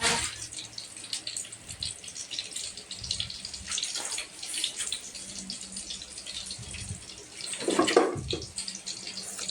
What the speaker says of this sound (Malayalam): എന്നിട്ട് കുറച്ച് വെള്ളം കൂടി നമുക്ക് ഊറ്റി കൊടുക്കാം.